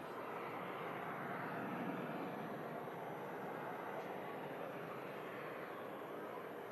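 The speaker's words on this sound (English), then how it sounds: "Also have a Turkish Airlines Airbus A321neo taxiing out to runway 23 right." A Turkish Airlines Airbus A321neo taxiing out toward the runway at Manchester Airport, heard as a steady, faint engine roar and broadband hiss at a distance, unchanging for several seconds, with no voices over it.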